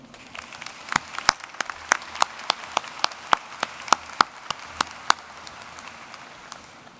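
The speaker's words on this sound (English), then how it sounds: "If we can get a round of applause for the Color Guard and the band" Thin, scattered applause at a shipyard christening ceremony honors a Color Guard and band, a handful of distinct claps spaced unevenly over quiet background.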